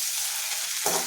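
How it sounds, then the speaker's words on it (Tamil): Onions sizzle softly in hot oil for a Chettinad-style lentil dumpling curry, a brief steady hiss, with a short louder stir near the end. "வெங்காயம் நல்லா வதங்கட்டும்"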